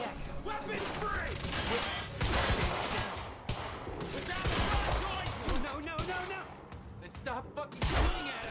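Dense gunfire in the Quantum Break video game, continuous rattling shots and bursts filling the clip at steady loudness, mixed with game sound effects and music under occasional voices.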